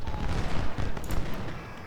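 Rifle volley fire in a video game, a dense crackle of overlapping shots rolling on steadily for nearly two seconds, loud and close with no clear gaps.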